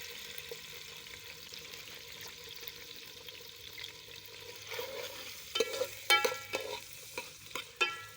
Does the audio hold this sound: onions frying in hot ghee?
yes